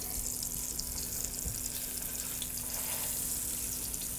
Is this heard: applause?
no